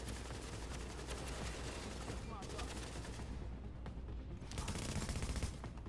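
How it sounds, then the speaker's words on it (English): Enemy rifle fire in the shooter game The Division crackles in rapid bursts and sustained volleys, loud and continuous, with a heavier flurry of shots near the end. "Eventually the enemy is going to stop shooting."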